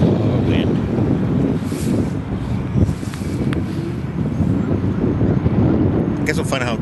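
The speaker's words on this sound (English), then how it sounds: "Oh, wind." Strong wind buffets a microphone outdoors, a continuous rumbling roar with gusty swells and brief louder thumps, close and loud, with faint background sounds near the end.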